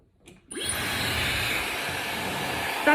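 A Dyson Supersonic hair dryer switches on after a short pause, then blows with a steady, even airy whoosh and a high whine, close up and alone, continuing without a break.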